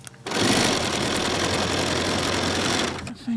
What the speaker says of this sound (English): Back under the sewing machine.